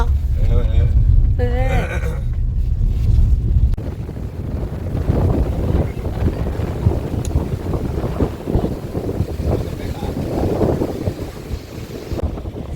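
Strong wind sweeps across the KRS backwaters, buffeting the microphone with a heavy low roar that is loudest at first, then continues beneath people talking nearby.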